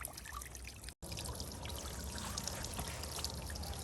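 A POPOSOAP solar fountain pump sprays water through a nozzle, giving a continuous splashing, trickling patter close by, broken by one very brief dropout before the flow carries on steadily.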